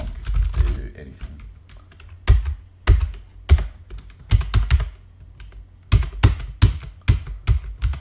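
Irregular bursts of clacking keystrokes on a computer keyboard, close and distinct, clustered in quick runs with short pauses between.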